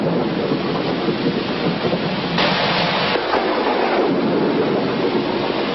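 Heavy rain pours at night in Kuala Lumpur, Malaysia, a dense, steady roar with a deeper rumbling swell midway that may be thunder, loud and continuous throughout.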